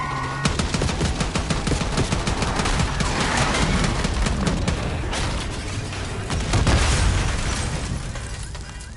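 Rapid sustained video-game gunfire at a limousine on a street, dense overlapping shots and bursts filling the whole stretch without pause, loud and close.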